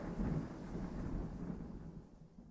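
Thunder from a storm rolls as a low, steady rumble in an audio story, with a rain-like wash over it, moderately quiet and fading slightly at the end.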